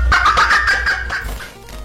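A chicken clucks in a rapid run of short, close, loud notes that trail off while facing a mantis.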